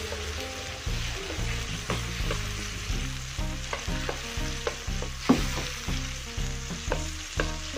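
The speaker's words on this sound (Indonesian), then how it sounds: "Kita tumis sampai dengan mengharum" Spice paste sautéing in a pan for chayote cooked in coconut milk, a steady sizzle broken by repeated rhythmic scrapes and taps of a spatula stirring it, close and fairly loud, with no voices.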